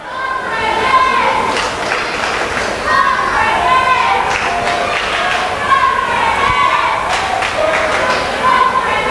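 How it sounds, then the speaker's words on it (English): A crowd at an Overdrive Wrestling independent show chants in a steady, loud rhythm, with young voices and scattered cheering filling the hall around the ring. "Crowd making a chant over there."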